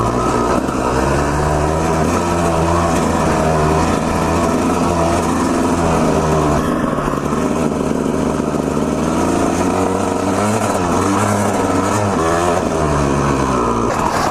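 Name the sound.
two-stroke dirt bike engine revving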